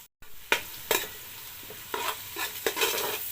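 Grated carrot and onion frying in a pan, stirred with a utensil: a soft sizzle underneath a series of scraping stir strokes, close and moderately quiet, with no talking.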